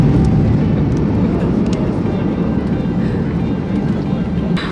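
Inside an airliner cabin on final descent toward Portland from Hawaii, a loud, steady low roar of engines and airflow fills the space without a break.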